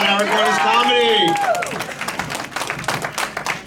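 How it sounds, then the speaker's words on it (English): Comedy club audience applause at Barton's Place, building under an announcer's voice over a sung or held tone at the start, then scattered, crisp clapping that grows more distinct as the talking fades. "A round of applause for Mr. John Butera."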